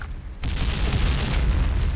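A bomb explosion in the Point Blank online shooter erupts into a loud, deep, rumbling boom that starts abruptly and sustains its roar for the rest of the short burst.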